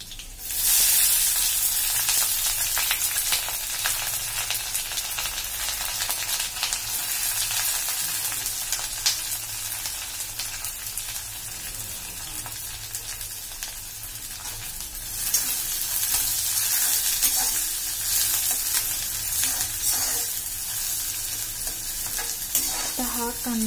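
Onion frying in oil in a pan, a loud steady broadband sizzle running throughout with scraping stirs, close and continuous.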